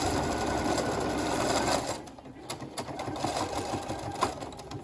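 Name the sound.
sewing machine edge stitching a fabric face mask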